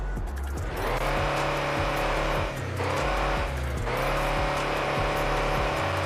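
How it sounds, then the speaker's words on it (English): A Mercedes Sprinter bus engine in the game Car Parking Multiplayer drones steadily and loudly, rising in revs several times with brief dips between gear changes. "but it's actually sound like a real bus."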